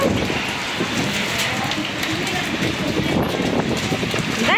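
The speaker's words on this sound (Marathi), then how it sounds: "बघा गारा पडताय. गारांचा पाऊस आलेला आहे पहिला." Hailstones pelt down during a hailstorm in strong wind, a dense, loud, unbroken clatter and rush close by, with voices faintly in the background.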